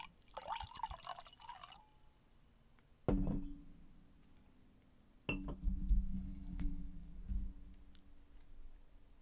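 A drink poured into a glass as a refill during a relaxed live pyjama-party show: a light trickle and clinks at the start, then two solid thuds of glass set down, each followed by a lingering low ring.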